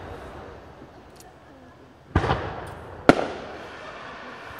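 Fourth of July fireworks in Ridgewood: two sharp, loud booming bursts about a second apart, each with a short crackling tail, rising out of a quiet night-time background.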